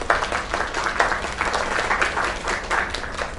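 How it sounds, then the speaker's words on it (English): A crowd applauds steadily in a video game, with dense clapping that swells in small waves. "Another round of applause."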